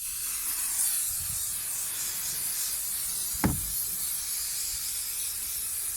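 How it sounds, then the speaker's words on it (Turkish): Würth silicone spray hisses from an aerosol can in one short burst onto a car's body and tyres, a close, brief spritz against a quiet background. "Aracın lastikleri dahil her tarafına sıkabilirsiniz."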